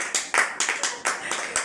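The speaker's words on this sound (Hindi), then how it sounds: "जिसका खाता निकले उनके लिए तालियां हो जाए" A few people clap briefly after an unlimited chowmein eating challenge, giving scattered, uneven claps in a short burst at close range.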